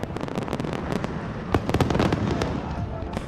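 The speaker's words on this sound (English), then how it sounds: "fireworks lit up the sky" Fireworks crackle and pop in dense, continuous bursts across a night sky at a film festival send-off, loud and close, with sharp louder bangs scattered through the barrage.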